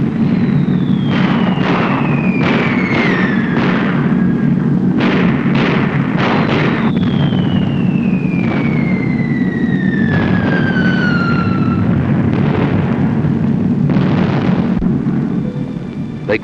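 Bombs dropped from B-17 bombers over Europe in autumn 1942 explode in repeated sharp blasts over a loud, constant engine drone, with descending falling whistles between them.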